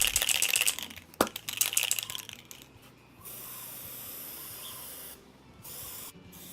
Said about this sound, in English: I then taped off the edges so that I can hit the center with a charcoal spray